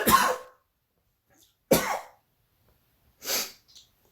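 Three separate coughs from a man, sharp and close, each a short harsh burst with clear silent gaps between, the last one slightly softer.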